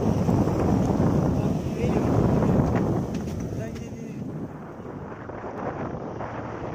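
Strong wind at sea during a sunrise fishing trip buffets the microphone in a loud, continuous rush that eases slightly toward the end. Someone talks over the wind noise.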